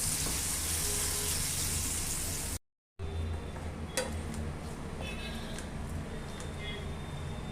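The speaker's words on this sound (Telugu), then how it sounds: "ఇప్పుడు వంకాయలు వేసుకుందామండి. ఇవి నూనెలో మెత్తగా మగ్గించుకుందాము మూత పెట్టేసి." Eggplant pieces sizzle softly in hot oil, a steady hiss with light ticks and one small clink, close but fairly quiet after a brief cut, someone talking over it.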